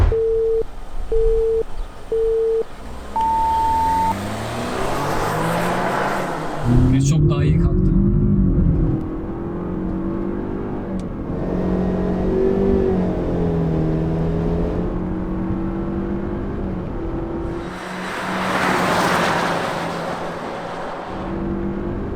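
A Honda Civic RS FC5 and a BMW 320i F30 accelerate hard in a drag race after a series of countdown beeps, engines climbing in pitch through gear changes, loud and close, with a voice talking over them.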